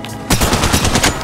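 Rapid automatic gunfire from the mobile battle royale game Apex Legends Mobile, a loud close burst of about a dozen quick shots in steady rhythm.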